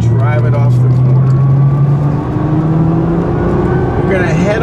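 A Nismo car drives around the Homestead-Miami Speedway track, its engine droning steadily at close range, shifting pitch as it comes off a corner, with someone talking over it throughout.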